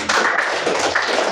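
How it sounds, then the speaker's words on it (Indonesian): Applause in a classroom, a short burst of many hands clapping together, close and fairly loud, lasting just over a second. "Oke, tepuk tangan untuk"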